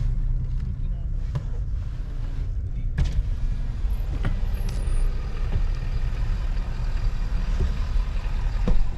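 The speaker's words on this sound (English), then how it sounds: "we're gonna drive over here and see if I can get some words from him" A vehicle rumbles steadily at close range as it drives across a farm at a vineyard, its low engine drone continuous, with occasional knocks and rattles.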